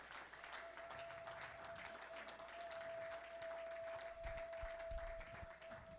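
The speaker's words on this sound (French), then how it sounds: "Nous allons encore applaudir pour nos enfants, nos sœurs, nos frères qui viennent de chanter devant." A church congregation applauds steadily throughout at a Family Day service, honouring the children who have just sung; the dense, even clapping fills the room over a faint sustained tone.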